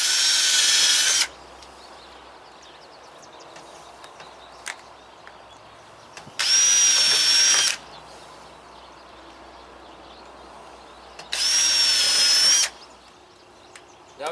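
A power drill with a self-centering bit bores hinge holes for an RV front window rock guard, three loud whining bursts of about a second each separated by quiet pauses.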